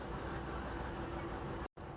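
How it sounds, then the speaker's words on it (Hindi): A Delhi metro train pulls into the station with a loud, steady rumble and rolling roar, close by and continuous apart from a brief cut. "कुछ देर वेट करने के बाद आ गई मेट्रो"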